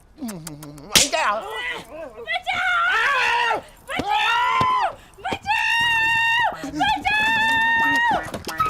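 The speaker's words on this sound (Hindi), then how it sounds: "चिल्ला क्यों रही है?" A woman screams loudly and repeatedly in a Hindi comedy film scene, with long shrill cries broken by sharp slaps and brief pauses.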